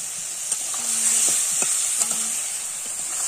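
Tomatoes stir-fried in a pan for a sweet-sour Bengali tomato chutney give a steady bright sizzle, with a few soft spoon scrapes and stirring knocks close by and no talking.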